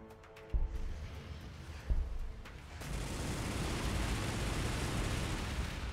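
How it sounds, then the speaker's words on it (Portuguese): Gunfire in the strategy game Warhammer 40k: Gladius with Astra Militarum units: two sharp loud shots, then a dense, sustained roar of overlapping blasts that fills the rest of the clip. "Vale a pena dar uns tiros, vai."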